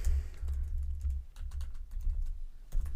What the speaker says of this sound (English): it's pretty easy for you to type these in